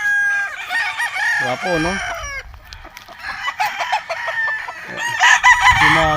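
Gamefowl roosters, full spark grays among them, crow and cluck on a farm in several overlapping calls that rise and fall, with a voice briefly speaking between them.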